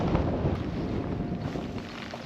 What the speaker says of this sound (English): That wind is awful.